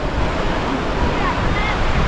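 Steady, loud rush of sea surf at a busy beach near Nam Dinh's fallen church, continuous breaking-wave roar mixed with wind buffeting the microphone.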